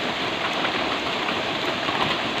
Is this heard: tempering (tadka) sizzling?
no